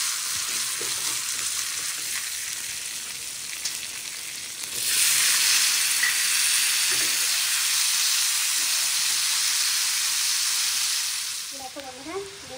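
Beans and carrots fry in a pan, starting with a soft crackle that swells into a loud, steady sizzle for several seconds before easing back down near the end.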